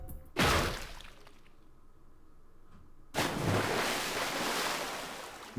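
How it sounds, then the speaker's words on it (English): A plunge into water in a submarine scene from the game 999: Nine Hours, Nine Persons, Nine Doors, with a loud rushing splash, a quieter stretch, then a second surge of water noise that lingers to the end. "And then he was floating in water."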